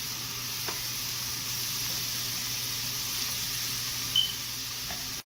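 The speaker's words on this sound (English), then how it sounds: "And when you fry the shrimp, you don't want the shrimp to cook too well also" Shrimp frying briefly in a pan for shrimp fried rice give off a steady, even sizzle close by, continuous for the whole stretch with no voices.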